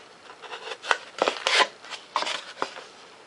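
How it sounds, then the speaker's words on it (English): An X-Acto knife cuts and trims a piece of foam for a 70mm EDF thrust tube, giving a few close, short scratchy slicing and rubbing strokes in quiet surroundings. "Come in here with an X-Acto knife. Take and trim this piece out."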